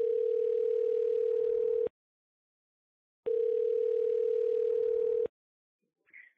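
A telephone dial tone plays as a steady continuous tone for about two seconds, stops, then returns for two more seconds before a faint sound at the end, coming just before a call is placed for a radio show interview.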